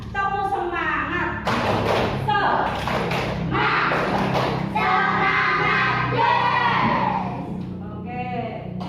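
Schoolchildren in a religious classroom repeat a rhythmic clapping chant, with several bursts of sharp claps and thumps interleaved with loud group shouting and an adult voice between rounds.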